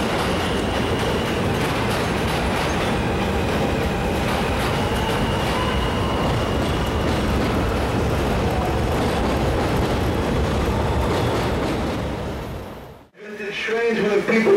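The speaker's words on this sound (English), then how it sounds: "here we see another revenue set of R-160s coming into the station" A New York City subway train of R160 cars pulls into a station on the Q line, a loud sustained rumble and roar of wheels on rails filling most of the span before cutting off abruptly near the end.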